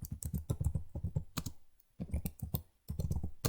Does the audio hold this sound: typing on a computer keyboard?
yes